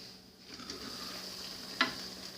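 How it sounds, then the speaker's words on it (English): Pork adobo is stirred in a pan: a quiet, steady simmering sizzle with soft utensil movements and one sharp scrape against the pan near the end, with no talking. "I'm going to stir this again."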